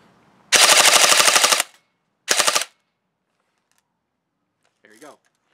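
An American Airsoft Factory Wabbe CQC airsoft gun fires BBs from a high-capacity magazine. It lets off one rapid full-auto burst of about a second, then a shorter burst, then a faint mechanical click. All three are loud and close.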